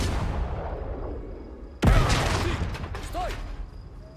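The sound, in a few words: artillery bombardment in the video game Last Train Home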